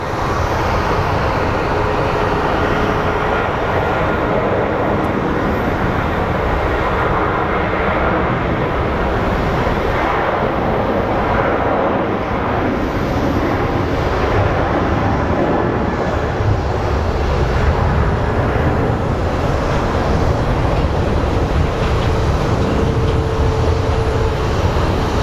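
An Alaska Airlines jet arriving from Seattle at Phoenix Sky Harbor International Airport, a loud sustained engine roar and rumble that holds steady throughout, heard alone without talk.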